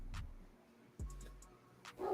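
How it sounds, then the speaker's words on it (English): A dog barks in a few short, separate yelps during an online live chat, each bark sharp and moderately loud with quiet gaps between. "I'm muted because Sophia's barking"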